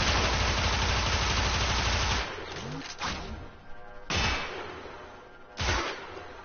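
Rapid automatic gunfire in the Warframe video game rattles loudly for about two seconds, then breaks into a few heavy separate shots and bursts over a lingering, rumbling background.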